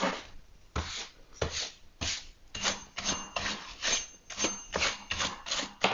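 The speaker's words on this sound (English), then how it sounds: "now's a good time to brush out any sawdust that might have packed in there" Short scrubbing strokes of a brush clear packed sawdust from a chainsaw's clutch housing with the cover off, a dry rasping rub repeated in uneven bursts close up, with no talking.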